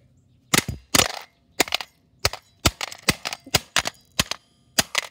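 An off-brand Nintendo Switch Pro controller is struck hard again and again, about a dozen sharp, loud cracking impacts in an uneven rhythm, close up, with no talking.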